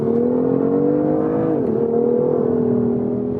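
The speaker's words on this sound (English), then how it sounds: "This engine absolutely screams." BMW M2CS engine revving hard under acceleration, a loud, close, strained howl that climbs, dips briefly at a gear change, then holds high and steady, with no speech.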